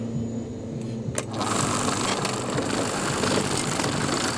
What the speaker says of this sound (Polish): mam zabytkową kosiarkę, która ma ponad 40 lat. Proszę zobaczyć. I to jeszcze działa.